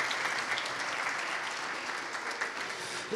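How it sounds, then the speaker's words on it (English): A chapel audience at a university service gives sustained, even applause throughout, a steady wash of many hands clapping. "Come on, y'all, clap for him."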